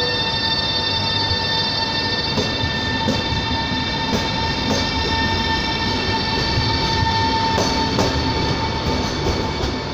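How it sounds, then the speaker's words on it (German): An Italian train rolls out of a station, a loud, steady rumble with clacking wheels and faint squeal tones, heard close up throughout without any voices. "Da seht ihr es, Leute, da fährt der Zug gerade weg."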